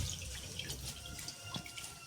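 Mustard greens for sarson ka saag tipped into a pot of water set to heat, giving a brief close splash and trickling watery rustle, with soft drips and no talking.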